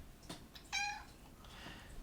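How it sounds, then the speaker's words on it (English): A pet cat gives one brief, faint meow in a quiet room, with a few soft rustles around it. "Oh, my cat's here."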